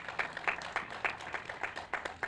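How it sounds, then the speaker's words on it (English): A crowd at an outdoor Pride event in Mansfield claps steadily, a brisk run of fairly close, moderate hand claps with no voices over them. "ask for another big round of applause for these individuals and gentlemen"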